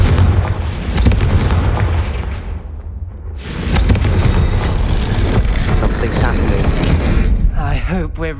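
A Confringo spell goes off in Hogwarts Legacy with a loud booming blast, a second heavy explosion following after a short gap, and then rumbling combat effects and game sounds trailing behind.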